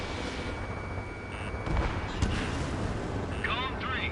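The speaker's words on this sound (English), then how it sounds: "Missile away." Missile launches from a fighter jet in the combat flight game Ace Combat 7, heard as a sudden broadband whoosh and rumble over steady engine drone, with a second burst shortly after.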